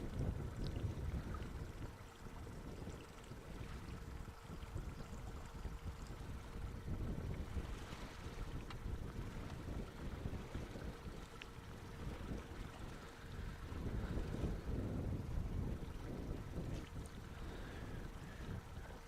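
Steady wind buffets the microphone on a boat deck out on open water, a constant low rumble with gusting swells and no voices.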